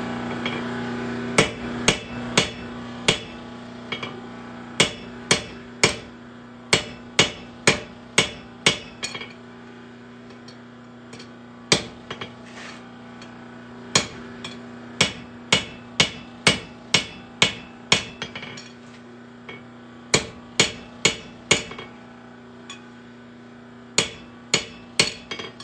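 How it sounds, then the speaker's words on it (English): A hammer forges the heel of a knife blade on the corner of an anvil, sharp ringing metallic strikes coming in quick bursts of several blows with short pauses between, close and clear with no talking. "Use the corner of the anvil and the corner of my hammer to just work the heel of this blade down."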